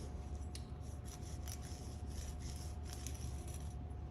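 Faint rubbing and scraping, with light rhythmic wiping strokes, as the inside of an ABS tone wheel flange on a truck axle is cleaned with brake cleaner, heard close and quiet.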